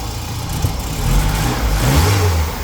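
A VW MK2 GTI with CIS fuel injection runs close by, its engine note wavering and dipping unevenly as it stumbles and struggles to hold a steady idle, loud and continuous with no voices.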